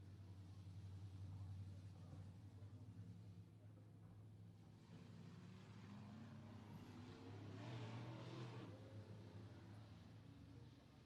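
Race cars lap the Tyler County track during hot laps, a steady distant engine drone swelling and fading as cars pass, continuous and moderately faint.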